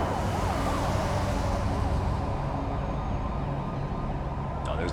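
An ambulance siren wails continuously at a highway crash scene, loud and close with sweeping rising and falling tones over traffic rumble.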